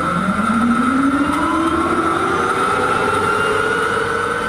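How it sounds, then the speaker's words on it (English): A Firebird concept car's gas turbine engine spools up with a rising, eerie whine that climbs steadily in pitch over a constant loud rushing hum. "Hearing the turbine engine from one of the Firebirds start up is sort of eerie."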